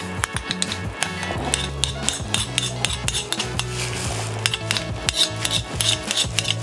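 A mortar and pestle pound fish curry paste made with snakehead fish, giving steady, repeated thuds and scraping knocks at a close distance, with no voices.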